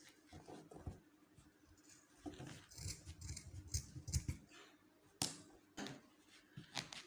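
Scissors snipping through cloth-covered paper while a fascinator is made, giving quiet, close, irregular cuts and rustles with short pauses between them.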